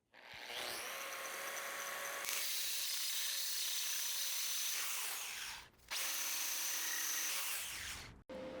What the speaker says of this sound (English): I'm going to go around and grind all these welds just on the outside faces